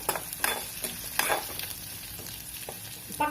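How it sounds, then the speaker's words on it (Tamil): Onions sautéing in a pan for drumstick leaf (murungai keerai) soup, a steady close sizzle broken by several scraping stirs of a spoon, with no talking. "இப்போது வெங்காயம் நல்லா வதங்கிடுச்சு"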